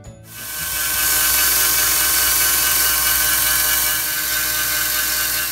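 A rotary grinder flattens the outline of an obsidian-textured ring, a loud, steady high-pitched whine that spins up at the start and holds close and constant.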